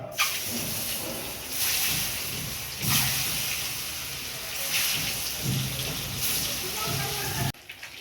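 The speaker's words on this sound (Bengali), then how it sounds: "হালকা করে ভেজে নেব।" Duck eggs fry in oil with turmeric and salt in a wok, giving a loud, dense, continuous sizzle that swells and eases in waves before cutting off abruptly near the end.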